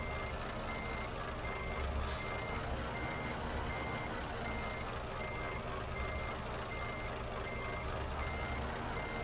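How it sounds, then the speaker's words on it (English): Steady, continuous reversing beeper of a truck in Euro Truck Simulator 2, heard over a constant low engine rumble, with a brief hiss partway through. "Sorry about the backup beeper"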